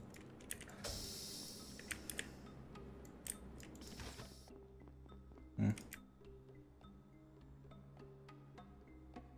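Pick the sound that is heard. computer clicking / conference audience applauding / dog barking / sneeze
computer clicking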